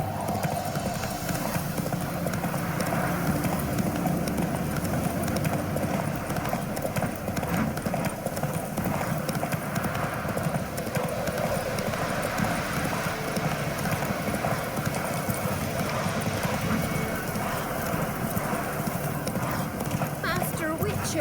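Geralt's horse Roach gallops in The Witcher 3, a steady rapid clip-clop of hooves running continuously under a busy game soundscape with music and ambient layers.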